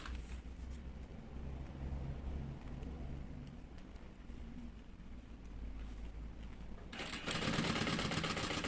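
A sewing machine stitches a zipper into a bag lining, giving a steady, low mechanical hum and rapid needle rattle, close and continuous, with a harsher, brighter whir near the end.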